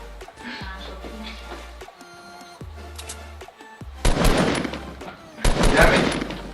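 Bursts of rapid automatic gunfire from a Fortnite match crackle loudly in two clusters over quieter game sounds and music tones, with voices talking at times.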